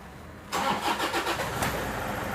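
Toyota Innova engine cranks briefly, then catches and starts, settling into a loud, steady idle close by.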